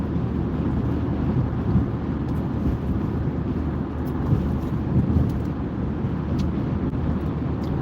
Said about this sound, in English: We're cruising about 70, 75 miles an hour.